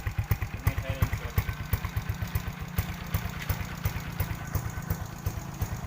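Motorcycle with stock exhaust and silencer idling close by, a regular low thumping pulse, loud and steady, slightly uneven toward the end.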